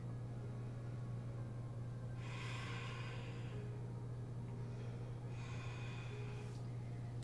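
Deep breaths taken during a yoga flow session, heard as two strong breathy exhalation bursts around mid-clip over a steady low hum, fairly close and without talk.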